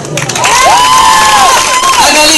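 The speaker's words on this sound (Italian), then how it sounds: "Applauso, applauso, applauso!" An audience at the opening of a Latin dance performance claps and cheers loudly throughout, with whistles and shouts over a thick crowd roar.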